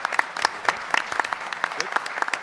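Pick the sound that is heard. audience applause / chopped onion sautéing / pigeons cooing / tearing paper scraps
audience applause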